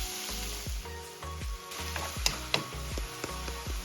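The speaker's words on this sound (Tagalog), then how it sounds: "naggisa lang ako dyan ng sibuyas at bawang" Onions and garlic sauté in a pan, a close, steady sizzle punctuated by repeated knocking stirs of a utensil against the pan, with no one talking.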